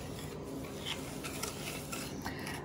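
Egg yolks mixed with sugar and lemon zest are stirred in a pan for a lemon cake, giving a steady, soft rasping scrape that runs continuously at low volume with no voices.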